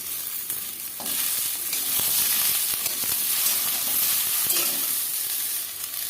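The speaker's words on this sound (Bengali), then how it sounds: "সবজিগুলো হালকা ভেজে নিয়েছি এবার এর মধ্যে দিয়ে দেবো টুকরো করা বেগুন আর দেবো একটা টমেটো কুচি" Chopped eggplant and tomato sizzle among lightly fried vegetables in a pan, a continuous close frying crackle with scattered stirring scrapes and clicks throughout.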